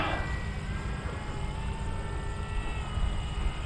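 A P-51D Mustang's piston engine drones steadily in flight, a dense, continuous roar with rumbling low end and airy wind noise, unbroken throughout.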